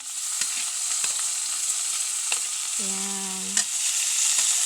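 Tomatoes fry in hot oil with a steady, dense sizzle that fills the whole clip, broken by a few light stirring clicks and a short tonal whine near the end.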